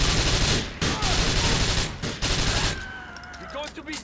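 Rapid gunfire from the video game GTA IV crackles in dense bursts, loud and continuous, then gives way to fainter in-game sounds and a voice for the last second.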